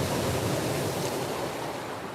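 Waves breaking on the Lake Michigan shore, a continuous broad wash of surf and wind, fairly close and steady, gradually easing slightly, with no talking.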